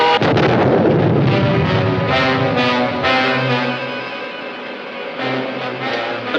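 A cannon booms and an explosion rolls out in a sci-fi film serial effect, a loud deep blast that rumbles and decays over several seconds with a low droning tone beneath.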